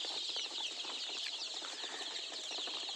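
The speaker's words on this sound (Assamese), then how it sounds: "500 লোকেল মুৰ্গীৰ পোৱালি।" Hundreds of local chicken chicks on a poultry farm produce a dense, steady chorus of high peeping, continuous and moderately close with no talk.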